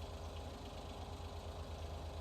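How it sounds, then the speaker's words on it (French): A small farm tractor engine runs steadily while driving a mower, giving a continuous, even low rumble with a faint knocking pulse and no talk. "le tracteur, il est pas costaud, mais vous inquiétez pas, il entraîne"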